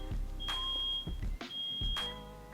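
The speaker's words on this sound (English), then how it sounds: "Why is a smoke alarm going off?" Two sustained high electronic beeps, each lasting about a second, with brief pauses and some background noise between them.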